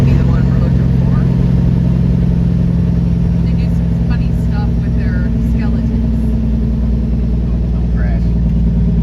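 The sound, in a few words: 6.0 engine running at idle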